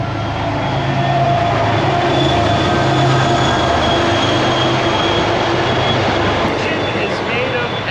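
A train rumbles past, a loud continuous roar of rolling wheels and rail noise with a steady broadband wash and faint squeals, sustained throughout with a voice mixed in.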